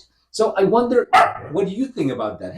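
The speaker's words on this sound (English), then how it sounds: "Sorry about my dogs." Several dogs bark in the background while a person speaks continuously over them indoors.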